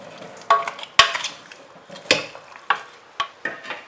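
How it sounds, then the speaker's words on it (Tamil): A spoon scrapes and clanks against a pan as village-style country chicken curry with small-onion paste and a little oil is stirred, with sharp metallic knocks about every half second over a faint sizzle and no talk. "இதை நான் நல்லா கிளறிடுறேன்."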